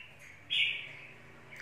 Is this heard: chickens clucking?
no